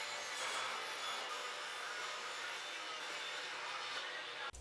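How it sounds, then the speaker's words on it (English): Table saw ripping wood pieces while building a beginner cabinet, a loud, steady, close whine of blade through the cut that holds evenly for several seconds before stopping abruptly. "I use the table saw to cut about 1/4 inch off one side"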